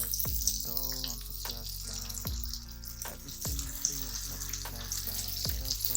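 Small balls of punugulu batter fry in hot oil, giving a continuous close sizzle and bubbling, broken by splashy drops as new balls go into the pan, with no talk.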